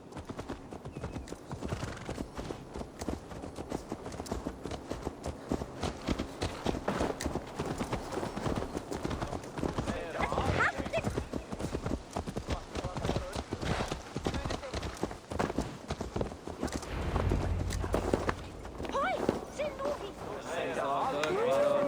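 Horse hooves clip-clop steadily at a walking pace, with a horse whinnying, while people talk over the sound, in the video game Assassin's Creed Valhalla.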